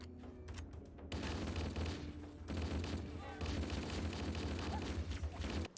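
Rapid automatic gunfire from a 2000s PC shooter game, dense bursts of shots and thumps filling most of the clip after a brief quieter opening, with a voice talking over it.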